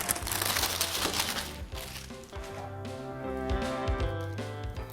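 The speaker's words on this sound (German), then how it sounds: "Ich falte dazu eine Tüte in der Länge" A paper sandwich bag is folded lengthwise by hand for DIY paper stars, giving a close, crinkly rustle that tapers off while soft tonal background music plays underneath.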